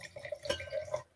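Wine pouring from a bottle into a glass, a soft, steady gurgling trickle with a ringing glassy tone, close by and heard alone for about a second.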